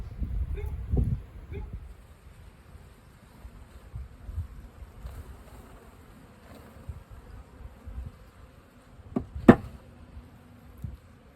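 A honeybee swarm hums softly at a swarm catch box on a cold early-season day. The low buzzing stays faint and steady, broken by a few soft knocks and one brief louder sound near the end.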